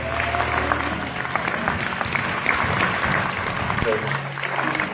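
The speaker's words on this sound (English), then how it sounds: "The installation team, let's give them a round of applause." An audience claps for the installation team at a pastor's installation service, with sustained dense applause for several seconds and the crowd murmuring underneath.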